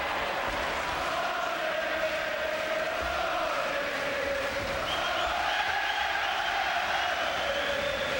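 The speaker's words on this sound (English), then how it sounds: "Crowd completely behind, absolutely behind Duddy." A large arena crowd roars steadily in support of boxer John Duddy during his fight with Howard Eastman at Madison Square Garden, a continuous loud wash of cheering with swelling shouts throughout.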